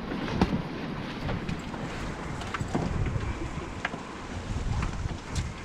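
A sailboat moving at five to six knots, with a continuous rush of water and wind noise against the hull and microphone, steady and close with no voices.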